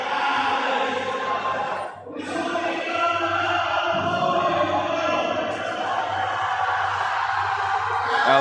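A crowd at a collegiate powerlifting nationals cheers and yells steadily for a lifter's 225-kilo deadlift attempt, a dense roar of voices rising near the end.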